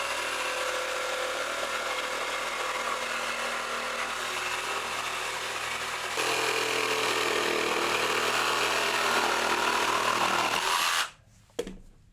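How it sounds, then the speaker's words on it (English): A jigsaw cuts a pipe cutout in an under-sink cabinet top, a loud continuous buzzing whine that holds for about eleven seconds, shifts pitch partway through, then cuts off with a short clatter. "cut it with a jigsaw"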